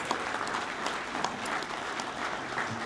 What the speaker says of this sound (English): So a round of applause because of volunteers like you guys.